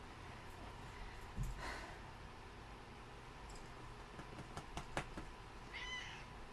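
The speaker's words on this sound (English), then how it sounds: "We got both the kitties in here." Two pet cats indoors give a few faint meows, short and scattered across a quiet room.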